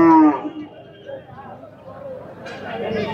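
A native cow at a busy livestock market gives one short, loud moo at the very start, followed by a steady hum of crowd chatter and movement around the animals.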